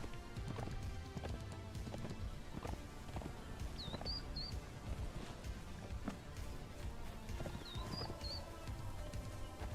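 Rhythmic clip-clop of horse hooves at a steady trot in the video game Conan Exiles, over a busy background, with brief whistling bird-like chirps appearing twice.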